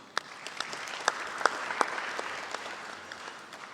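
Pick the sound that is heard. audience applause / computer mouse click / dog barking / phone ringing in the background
audience applause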